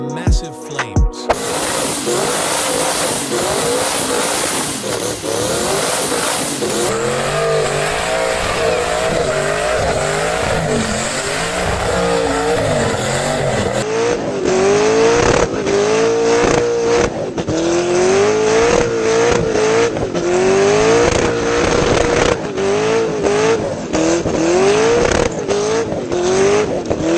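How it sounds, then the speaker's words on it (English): A twin-turbo LSX-powered Commodore revs hard and does burnouts, a loud sustained engine roar with rising and falling revs and tire squeal over nearly half a minute. "We got the twin Turbo LSX Commodore, which looks scary, is an absolute burnout machine, and spits massive flames."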